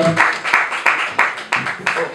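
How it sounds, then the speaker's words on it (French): Rhythmic applause from an audience at a Congolese anniversary ceremony hall, steady bursts of clapping with regular accents, loud and close. "En tout cas, applaudissez aussi quand même pour eux."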